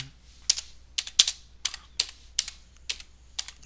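Keys tapped on a computer keyboard while entering chart text in Excel Online: about a dozen crisp, light clicks in short uneven bursts, close and quiet, with no talk.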